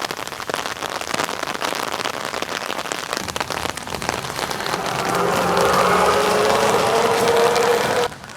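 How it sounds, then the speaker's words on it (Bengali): Heavy rain pours down on a street where water is starting to pool, a dense steady roar of drops on surfaces that swells louder and fuller toward the end. "ভাই বৃষ্টি সেই জোরে নামছে"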